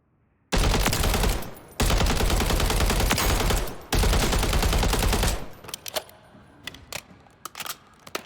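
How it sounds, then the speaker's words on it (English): Three long bursts of rapid automatic gunfire in Call of Duty: Warzone, loud and sustained, followed by scattered single shots and clicks as things quiet down. "you can see that the gunshots are significantly quieter"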